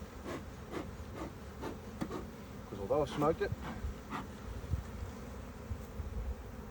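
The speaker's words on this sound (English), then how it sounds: "these bees are going to get a bit more lively" Honeybees in an opened hive, stirred up after smoking, buzz loudly and close by with rising, wavering drones as individual bees fly past, while someone talks over them.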